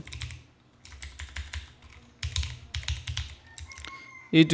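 Someone types a YouTube channel name on a computer keyboard: close bursts of rapid key clicks separated by short pauses, ending with a louder knock.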